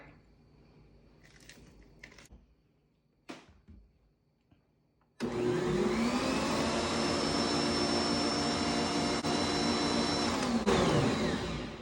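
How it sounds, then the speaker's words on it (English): After a few faint clinks and scrapes, an electric mixer starts up and whirs loudly and steadily for about six seconds, beating dessert batter for a Ghosts in the Graveyard treat. It then winds down, with no talking. "I'm going to give this one more scrape down, and one quick mix"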